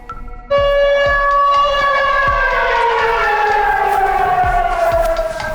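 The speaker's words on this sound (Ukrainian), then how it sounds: "Це звук сирени на території однієї шкіл у місті Сарне" A loud civil-defense air raid siren at a school in Sarny, Ukraine, starts abruptly and wails steadily, its tone slowly sliding downward, close and dominating.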